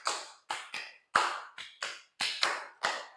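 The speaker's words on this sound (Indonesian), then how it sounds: "Nah, tepuk tangannya buat teman kita, hebat." A class claps hands together in a spaced, rhythmic pattern: about eight sharp, separate claps, close and fairly quiet, with no talking.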